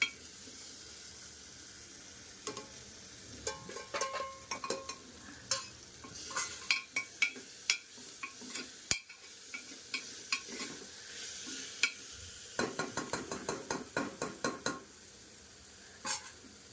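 Spices for sambar sizzle in hot oil while a spoon clatters and scrapes repeatedly against the pan, quiet and close, with irregular stirring knocks and no talking.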